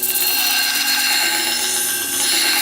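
A knife blade is sharpened against a spinning sandpaper wheel on a grinder, a loud steady whirring grind with a constant motor whine throughout, no speech.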